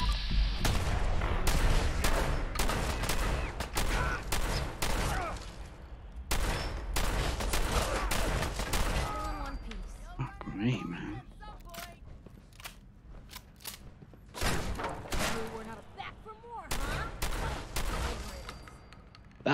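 Rapid bursts of gunfire in the VR shooter Fallout 4 VR, loud and close, firing in repeated volleys with short pauses while someone talks over the shots.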